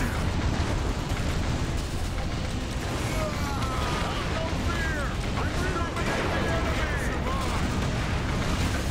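Missile turrets firing and exploding in a battle in Earth Defense Force 2017 on Xbox, a dense, loud, continuous wash of blasts, rumbling booms and whooshing launches layered over one another, with voices talking underneath.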